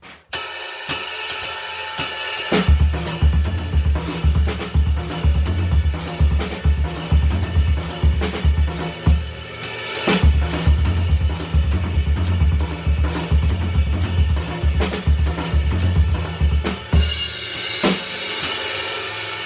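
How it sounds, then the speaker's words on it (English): Fast drumming with rapid snare and bass drum strokes in continuous repeating groupings over cymbals, played loud and close for a long stretch. "I'll start with the snare drum, followed right by the bass drum."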